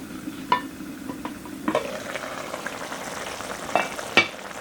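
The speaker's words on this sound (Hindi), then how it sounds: "कीमा हमारा भुन चुका है अच्छे से" Beef mince frying in a karahi gives a low steady sizzle, with a few sharp spoon clinks and scrapes of stirring scattered through it.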